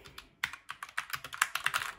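Typing on a Redragon K552 mechanical keyboard with Outemu Red switches, a quick uneven run of close, crisp key clacks, about a dozen strokes, heard alone.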